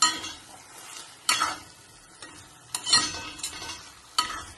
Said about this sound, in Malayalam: നല്ലോണം ഇളക്കി ചേർത്തിട്ട്